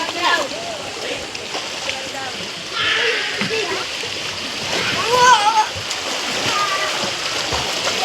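Water splashes in a cold mountain stream close by, with repeated bursts of splatter over running water while people, including children, talk and shout.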